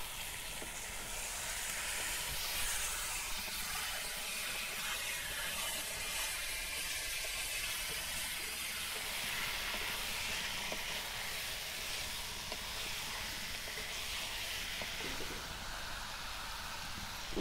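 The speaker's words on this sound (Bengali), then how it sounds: "মশলার সাথে মাংসটা আমি একসাথেই কষে নেব" Meat being fried and stirred with spices in a pan for a Bengali sweet pulao, a steady loud sizzle with hiss and steam running throughout, nothing else over it.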